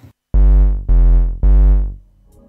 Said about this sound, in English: Then I have also added a sub bass using the Volca Modular.